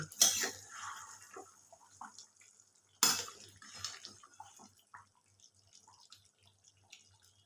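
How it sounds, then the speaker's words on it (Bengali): Metal clinks as a pot lid is lifted off simmering chicken curry, two sharp clatters about three seconds apart, followed by faint quiet bubbling and small taps in a hushed kitchen. "তরকারিটা অনেকক্ষণ ধরেই ফুটছে এবার আমি ঢাকাটা খুলে দিলাম"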